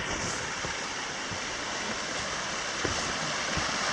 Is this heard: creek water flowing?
yes